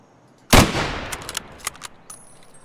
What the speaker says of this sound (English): And there's the sniper, if we just shoot something over there to see what it sounds like.